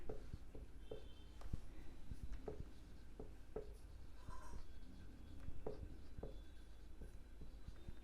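Chalk or marker tapping and scratching on a classroom board while angles in a linear pair are written for a class 7 maths lesson, a run of short, evenly spaced strokes over a steady low room hum.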